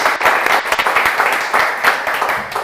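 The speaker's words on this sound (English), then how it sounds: "let's give him an applause for his project" An audience applauds a project pitch at a pitching forum, with loud, close clapping sustained throughout and a few sharper individual claps.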